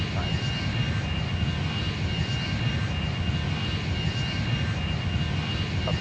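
An airplane takes off at Tianjin Airport, its engines making a loud, steady roar that holds at an even level throughout.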